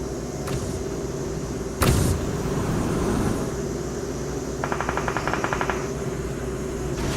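Vehicle in the mobile battle-royale game PUBG Mobile, its engine a steady, close, low drone throughout, broken by a sharp crack near the start and a burst of rapid ticking toward the end.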